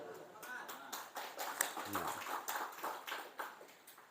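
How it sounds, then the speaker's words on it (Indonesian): Half-hearted audience applause at a religious moderation talk, a thin, uneven scatter of claps with a voice speaking briefly in the middle. "Tepuk tangan hanya setengah."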